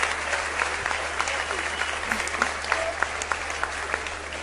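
A small group claps steadily and close by, with sharp individual claps standing out and a low steady hum running underneath.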